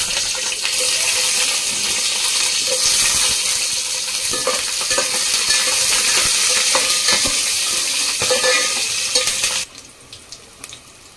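Green chillies tossed into hot oil with whole spices like star anise, cloves, mace and bay leaf for biryani, giving a loud, continuous hissing sizzle with scraping stirs, which cuts off abruptly near the end and leaves a quieter tail.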